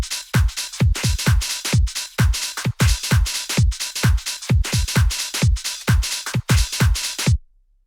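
UK garage drum loop made in FL Studio, punchy kicks and crisp hats and snares in a shuffled, swung two-step rhythm, looping evenly and loud with no voices, then cutting off sharply at the end.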